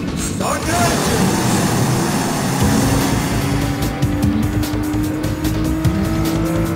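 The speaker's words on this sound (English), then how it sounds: "Gentlemen, start your engines." Race cars in GT Sport, engines roaring and revving loudly with tire squeal, a continuous dense mechanical din near the listener, a voice faintly underneath.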